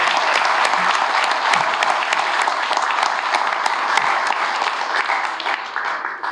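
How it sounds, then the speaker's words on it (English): A round of applause from the attendees at a naturalization ceremony held at the State Archives, dense and sustained for the whole stretch, steady and fairly loud with no voices over it. "So let's give them a round of applause right now."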